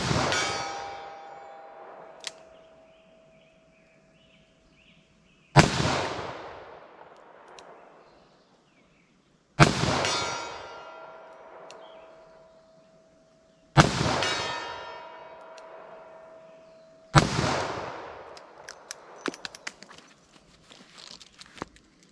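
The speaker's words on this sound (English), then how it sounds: "Let me fire a shot single action with this guy and see what happens with our 44 special." Revolver shooting .44 Special handloads in single action, five loud, separate reports several seconds apart, each ringing out over a long decay, with faint clicks and handling noise near the end.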